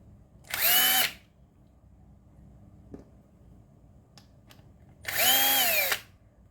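A power screwdriver whirs in two short bursts, each about half a second long, as it loosens screws on a Wahl hair clipper being opened to change its battery, with faint clicks and handling noise between.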